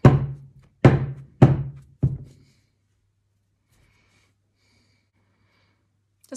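Hands patting and thumping the base of a clay Christmas gnome, giving four dull, close thuds in a quick uneven rhythm, followed by near silence.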